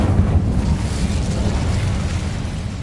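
The Incendio fire spell in Hogwarts Legacy on PS5 gives a continuous, loud whooshing roar of flame, broad and rumbling, holding steady for a few seconds with no voices over it.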